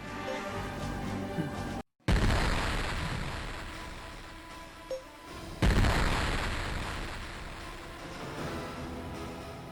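Ship barrage explosions in Infinite Space, two heavy booming blasts separated by a short silent gap, each decaying into a long rumbling tail, with a small blip between them.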